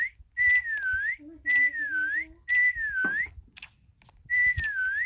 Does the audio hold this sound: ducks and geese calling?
no